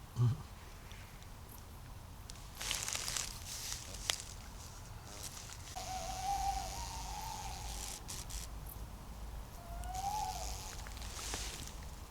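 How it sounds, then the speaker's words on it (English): Two owls hooting at night in an ancient forest, faint soft hoots heard twice a few seconds apart amid rustling, crickets and low background noise, distant and quiet. "There's 2 owls hooting away now."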